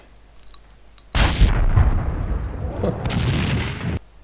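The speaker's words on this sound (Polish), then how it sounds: "Jeszcze wybuch na koniec." A sudden loud explosion in the video game Max Payne 2 bursts in, followed by a rumbling, crackling roar that lasts a few seconds before cutting off; a voice briefly exclaims.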